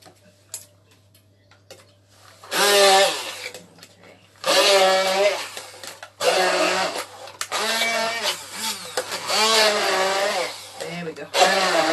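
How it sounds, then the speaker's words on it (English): A hand blender whirs through beetroot in repeated bursts of a few seconds each, with short pauses between pulses, the motor pitch wavering as it chops, close up. "it's easier for the blender to process that"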